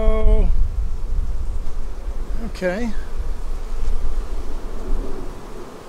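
A honeybee hive roars with a dense, continuous buzzing of many bees close by, while a person speaks briefly over it and a few brief tonal sounds rise above the drone.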